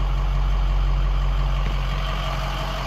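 A 2007 Ford F-450 auto crane truck idles at close range, its engine giving a steady, low, even rumble that holds for the whole stretch with no speech.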